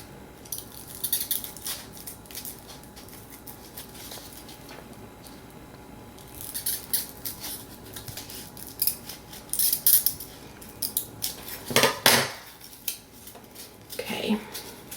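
Scissors cutting through material close up in repeated uneven snips and crunches, alternating with quieter handling pauses and a sharper burst of cuts near the end.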